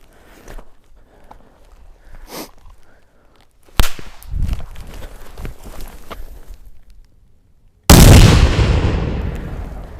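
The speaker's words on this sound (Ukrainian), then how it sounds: "взриву детонації гранати РГД-5 буквально 1 метр" An RGD-5 hand grenade detonates about a metre from a ballistic groin protector in an outdoor explosive test: scattered footsteps and thuds first, a sharp crack near four seconds, then a loud, close blast near eight seconds that rings out and slowly decays.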